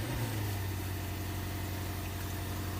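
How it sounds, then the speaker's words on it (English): Lexus IS F engine running at a steady idle, a low constant hum with a faint vibrating drone, close by and without any voices. "So if I just start the engine up"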